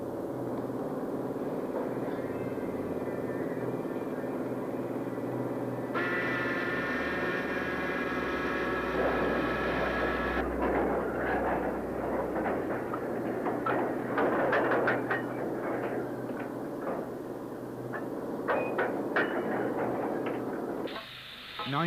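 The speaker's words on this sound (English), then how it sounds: "(92045) now backs onto a loaded train, while another 9F departs on the 13-mile journey to Shockwick sidings." A BR 9F steam locomotive works with a loaded iron ore train of heavy wagons on a steel-works line, a sustained loud rumble and roar with clanking and rattling wagons rolling past, no voices.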